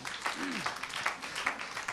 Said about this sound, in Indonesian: Setuju berikan tepuk tangan yang meriah